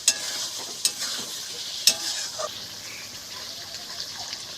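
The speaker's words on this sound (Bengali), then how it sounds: "ভালো করে একটু নেড়ে নেব" Pointed gourd curry with salt and sugar being stirred in a pan, with soft scraping strokes and a few sharp clinks over a faint steady sizzle.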